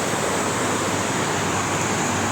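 Heavy rain floodwater rushing past in Riachão do Bacamarte, a steady broadband roar of flowing water, loud and continuous with no pauses, no voices over it.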